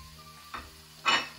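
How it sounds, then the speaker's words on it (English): Jamón ham sizzles in a frying pan over garlic and seasonings, a quiet steady crackle with two brief louder scraping stirs near the end. "And you're gonna hear it sizzle."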